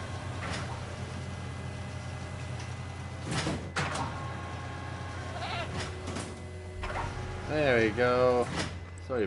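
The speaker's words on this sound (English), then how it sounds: "You guys gonna kill this other goat?" Goats bleating in the Jurassic World Evolution video game, with several wavering, quavering bleats late in the clip over a steady game ambience hum, a few sharp clicks, and someone talking throughout.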